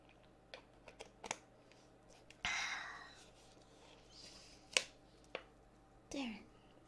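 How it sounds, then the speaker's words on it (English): Sparse clicks and taps come from a computer keyboard being cleaned with its keycaps removed, close and quiet, with one longer brushing or spraying burst and a few sharp snaps in an otherwise hushed room. "There, I think I'm done cleaning my keyboard."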